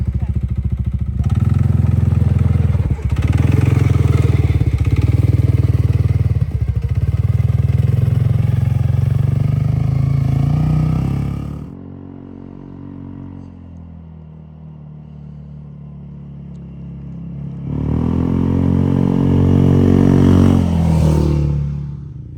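A CFMOTO ZForce 500 side-by-side fitted with a stage 3 clutch kit drives past with a loud, rumbling engine roar that rises and falls, fades to a quieter stretch, then surges back up; voices are heard alongside.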